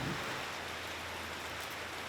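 Light drizzle falls in a volcanic region of Indonesia, heard as a soft, steady hiss with no distinct drops, faint and continuous throughout and with no voices.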